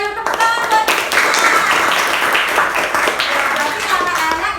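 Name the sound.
children clapping for Krisna in class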